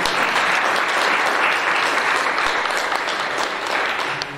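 A church congregation clapping together in praise, a loud dense continuous roll of many hands that fades slightly toward the end.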